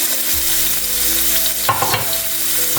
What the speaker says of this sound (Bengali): জাস্ট হালকা করে একটু ভেজে নেব